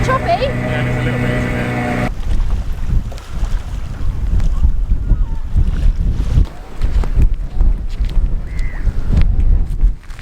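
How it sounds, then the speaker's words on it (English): Strong wind buffets a sailboat heading out onto choppy water, roaring steadily across the microphone with gusty swells, while a voice talks at the start over rumbling low engine or hull noise. "out there it's so windy"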